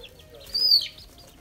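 A flock of hens gives a short cluck and squawk, a brief bright call rising over a quiet background, heard close and alone.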